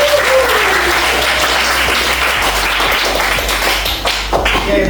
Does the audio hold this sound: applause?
yes